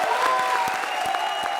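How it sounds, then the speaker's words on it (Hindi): A studio audience at a comedy show applauds steadily, a dense burst of clapping with faint crowd murmur, loud and continuous over the short stretch. "जोरदार तालियां।"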